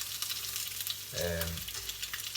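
Bacon sizzles crisply in a frying pan, a steady close hiss with a brief louder flare midway through the short stretch.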